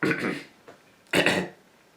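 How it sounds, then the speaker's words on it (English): Two rough throat-clearing bursts from a close voice, the second louder and longer, separated by a brief quiet pause. "I have to clear my throat."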